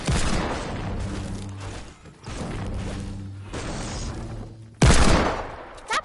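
Rapid gunfire in bursts, loud and close, with sharp cracks and booms separated by short pauses and one especially heavy blast near the end, heard alone.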